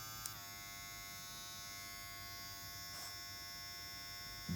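A TPOB Tiffany Blue Play Mini hair clipper runs at low speed, a thin, steady electric buzz held constant and alone, very quiet, with a faint click near the start.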